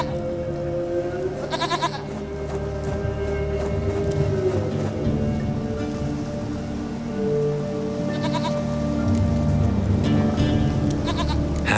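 A goat bleats in The Witcher 3, with a couple of distinct wavering bleats standing out against steady rain and a sustained ambient background, the calls close and clear.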